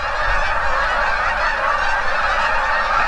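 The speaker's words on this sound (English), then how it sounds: "I got a crowd of geese coming my way" A flock of geese honks steadily and loudly at close range, overlapping calls forming a continuous dense chorus for the whole stretch, with no talking.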